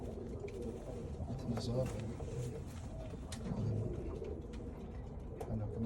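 A pair of grey pigeons, sisters from the same nest with Belgian 2024 rings, give soft low cooing calls repeatedly at close range under a voice speaking.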